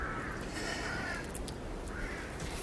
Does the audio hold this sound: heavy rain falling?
no